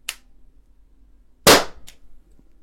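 A single sharp gunshot fired indoors over a Caldwell chronograph rings out loud and close, a brief crack with a short reverberant tail and a faint click before and after.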